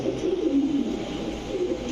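Pakistani Teddy pigeons coo in low, repeated throaty calls at close range inside a pigeon farm, with no talking.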